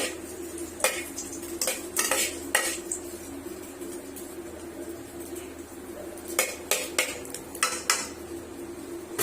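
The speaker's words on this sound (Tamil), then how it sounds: "கடுகு போட்டாச்சு. இப்ப வதக்கிக்கலாம்." Mustard seeds sautéing in a pan, heard as a series of sharp metallic clatters and scrapes of a utensil against the pan over a quieter background hiss.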